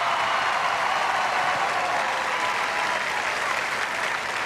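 Sustained, loud applause from a large audience at the Miss Teen USA 2001 pageant broadcast, steady broadband clapping filling the whole stretch without a break.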